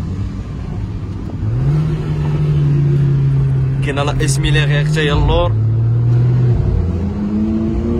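A Mercedes A45 AMG Edition 1 engine revs up and accelerates with a rising, steady drone, pitch climbing in steps, while someone speaks briefly in French over it.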